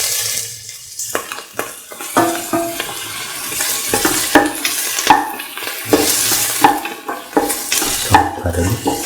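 Onions tossed and fried in a pan for a vegan lentil pasta, giving a steady sizzle broken by repeated scraping and clatter of a utensil against the pan, close and fairly loud with no talking.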